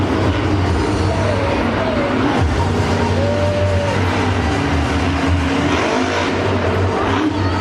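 A monster truck engine roars at Monster Jam Philadelphia 2019, a loud, continuous mechanical drone with rising and falling revs heard from across the stadium, blended with arena noise.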